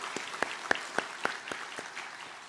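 A church congregation at a Korean Baptist Sunday worship service gives faint, scattered applause that sounds distant. A few sharper claps stand out over a soft background murmur.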